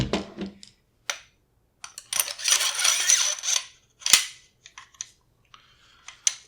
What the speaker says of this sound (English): And you want that to click into place.